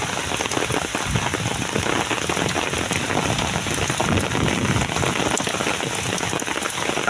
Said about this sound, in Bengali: আজকের সকাল থেকে অবিরাম বৃষ্টি।